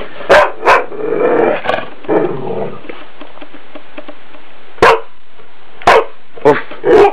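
A dog barks in short, loud bursts, a few quick barks early on, then a burst of scruffy noise and scattered sharp barks near the end with quieter gaps between.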